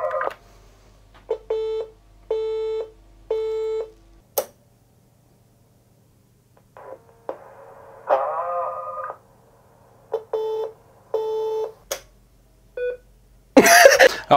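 An answering machine with a built-in recorder sounds a series of short electronic beeps after a message, some spaced evenly and some in quick pairs, with clicks and a brief burst of handling noise near the end.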